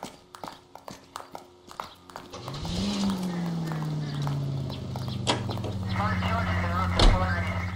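A car in the video game LA Noire starts up and drives, its engine hum rising and holding steady over several seconds after a run of faint footstep-like knocks, with a sharp bump near the end.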